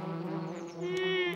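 A cartoon bee buzzes steadily while collecting nectar from a flower, a close, continuous drone with a slight rise in pitch near the end, heard alone.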